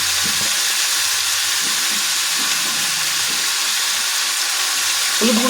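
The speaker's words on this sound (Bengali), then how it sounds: "আবার খুন্তি দিয়ে কিছুটা নাড়িয়ে নেব" Winter vegetables with onion greens and turmeric fry in a pan as a spatula stirs them, giving a steady, close, dense sizzle and hiss that runs throughout, with faint scraping knocks beneath.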